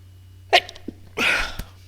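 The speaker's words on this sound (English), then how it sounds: "goodness, I had to sneeze." A single person sneezes once, a short sharp double burst with an intake and then an explosive release, close to the microphone over a low steady hum, with no talking.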